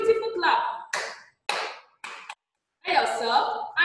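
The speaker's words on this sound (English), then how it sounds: "Now give yourself a beautiful clap." Young children clap their hands together in several short bursts, sharp and close, separated by brief silences.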